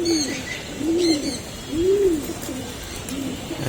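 A pigeon held in a person's hands coos three times in slow, low, rounded calls, close by, with faint background hiss and no talking.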